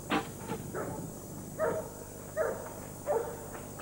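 Several dog barks from dog enclosures ring out in an irregular series, fairly close, with short pauses between them over a steady background hum.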